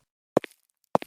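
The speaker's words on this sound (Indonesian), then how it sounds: "kini terdengar suara langkah kaki." Two slow, distinct footsteps separated by a pause, each a soft thud followed by a lighter scuff, close by in near silence.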